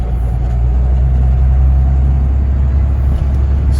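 An old Ford truck with a swapped Cummins diesel drives while towing a load of hay, its engine giving a steady, loud, close low rumble that holds throughout with no pauses.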